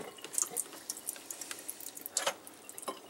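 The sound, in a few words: salmon eggs poured into a strainer with water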